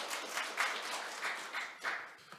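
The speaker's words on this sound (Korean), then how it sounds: "박수로 맞이해 주시기 바랍니다." Fairly quiet applause from an audience at a regional investment briefing, greeting a presenter: many hands clapping in a loose, slightly uneven patter with a few sharper individual claps standing out.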